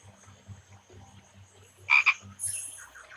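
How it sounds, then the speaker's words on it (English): A frog in the Secret Files 2 adventure game gives a soft rhythmic low croak, followed by a couple of sharper, brighter croaks near the end, quiet and alone. "I would never have dreamed that catching frogs was this easy."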